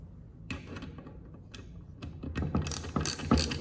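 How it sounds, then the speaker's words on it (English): A ratchet clicks in short irregular bursts, growing louder and denser, while tightening down a side engine cover during an engine-technology lab on valve, camshaft and lifter installation. "when you tighten down your side engine cover, you want to make sure that you alternate back and forth opposite corners"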